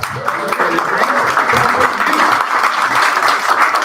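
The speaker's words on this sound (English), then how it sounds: "let's give him a round of applause" Steady audience applause at an indie game founders' meeting for a sponsor, a dense, continuous wash of many hands clapping, loud and even for several seconds.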